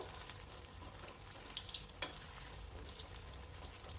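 Crisp bitter gourd (karela) snack pieces deep-frying in oil bubble and sizzle in a continuous hiss, with a light clink of stirring near the middle, close but fairly quiet and free of talk.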